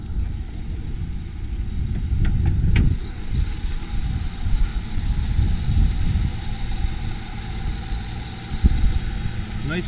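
A 2004 Lexus RX330 engine idles smoothly with a steady, even hum and no roughness, heard up close from the engine bay for the full stretch with light handling noises.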